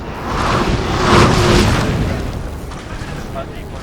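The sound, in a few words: artillery fire in a video game battle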